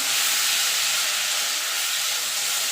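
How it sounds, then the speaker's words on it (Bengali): Ginger paste and green chilli hitting a hot pan give off a steady, loud, broadband sizzle and hiss that holds unbroken from start to end with no voices. "এবার দিয়ে দেবো কাঁচা লঙ্কা আদা বাটা"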